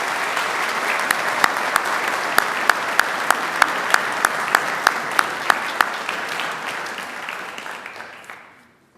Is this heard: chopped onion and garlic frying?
no